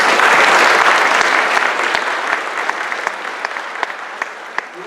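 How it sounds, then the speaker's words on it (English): Audience applause at a guide dog puppy raiser class ceremony: a full, loud wash of clapping that slowly thins out, with scattered individual claps standing out toward the end. "How about a big round of applause?"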